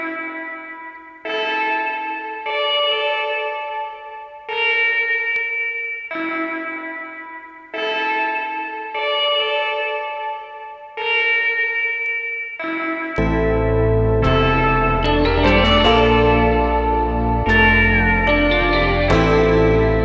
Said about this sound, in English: they're actually from the Prophet sound in Arturia, and they're like bells, you know, but it sounds like a crazy guitar